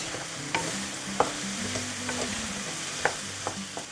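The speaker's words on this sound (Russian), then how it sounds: "теперь я добавил грибы и немножко попытаемся это пережарить" Mushrooms fry in a pan for a chicken and mushroom pie filling, a continuous close sizzle broken by several sharp scraping strokes of a spatula stirring them, with no voices.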